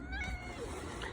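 A cat meows amid a dense, noisy background, brief and moderately quiet, with no clear speech over it.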